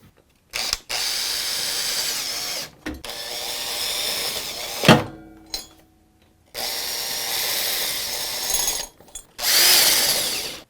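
A Milwaukee hex-to-square drive adapter on a power driver snugs the bolts on a lawn mower. Several loud, close bursts of whirring motor are separated by brief pauses and sharp clicks, and no one speaks.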